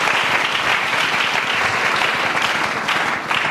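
A church congregation applauds with dense, sustained clapping that stays loud and even for several seconds, with no voices standing out.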